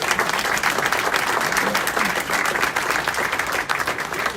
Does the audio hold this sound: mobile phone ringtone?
no